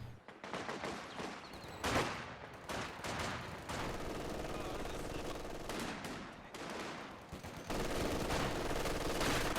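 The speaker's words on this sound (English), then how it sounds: "G42 trying to shoot into this garrison" Rapid machine-gun and rifle fire from a Company of Heroes 2 battle, with G42 soldiers shooting into a garrisoned building held by conscripts. Bursts rattle continuously at a steady, fairly loud level across the whole stretch, with a sharper crack near the start.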